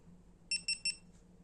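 A GoPro Hero 4 Black camera powering on gives three short, bright, evenly spaced beeps close by over a quiet room hum.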